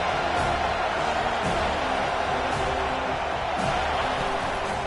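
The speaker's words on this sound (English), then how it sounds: "Decibels rising as the crowd gets behind this defense on 3rd down." Stadium crowd in a college football video game, a Kennesaw State matchup, roars steadily on a third-down defensive stand, a constant wash of cheering at moderate volume with no clear talk over it.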